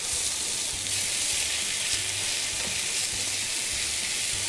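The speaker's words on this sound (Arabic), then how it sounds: "ما كثير بدنا نغلي حتى ما نخسر اللون الاخضر الحلو تبع البيستو" A pan of pesto sauce for chicken and mushroom gratin bubbles and sizzles steadily on the stove, a close, even hiss with no talking.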